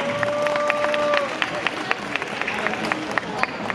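An audience at a comedy show in Mérida, Yucatán claps and murmurs for volunteers who came up on stage, with sharp individual claps popping through crowd babble and a brief whistle-like tone early on.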